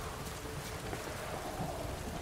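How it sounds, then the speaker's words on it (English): Rain pouring in the video game The Witcher III: Wild Hunt, a steady, dense hiss of falling water that fills the whole moment with no speech. "Looked like it would rain, and here it is."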